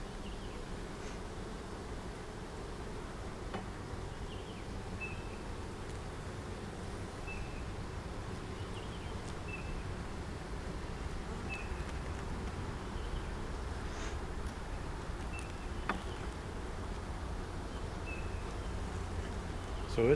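A honeybee colony hums in a low, continuous drone during a hive inspection while boxes are added, with occasional faint handling knocks and no talking.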